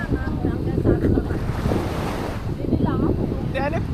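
Strong wind buffeting the microphone by the sea at Pagudpud in the Philippines, waves rushing underneath, with some faint Filipino voices in the background.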